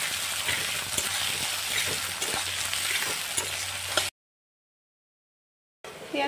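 Sliced onions sizzling in refined oil alongside bay leaf, cardamom and panch phoron for soybean pulao, a dense continuous crackle with stirring scrapes, cutting out to silence before briefly resuming.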